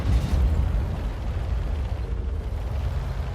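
A tank cannon fires in the World of Tanks video game, a loud booming blast that rolls on as a sustained low rumble without trailing off.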